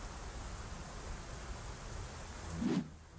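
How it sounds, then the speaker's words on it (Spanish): Steady rain falls in the video game Omertà: The Japanese Incentive, a soft, even hiss throughout with a brief louder burst near the end and no talking. "aquí está lloviendo"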